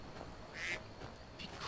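Small ducklings quack in Skyrim, a couple of faint, short peeps and quacks in quick succession over a quiet background, with no talking.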